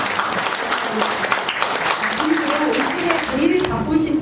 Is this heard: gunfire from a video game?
no